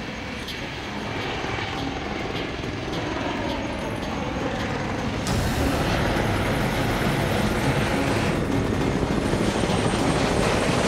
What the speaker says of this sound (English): That is the sound of a helicopter.